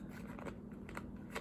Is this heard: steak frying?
no